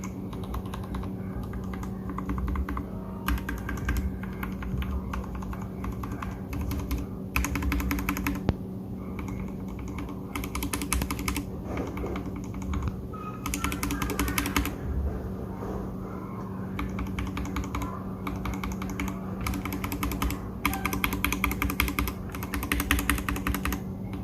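Keystrokes on a Royal Kludge G68 keyboard with lubed switches, a steady run of soft, muted clicks in irregular bursts, close and alone with a faint background hum.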